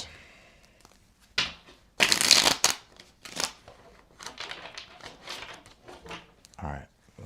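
A deck of tarot cards is shuffled by hand up close in short, papery riffling bursts and loose crackling handling noises, with someone talking quietly between the shuffles.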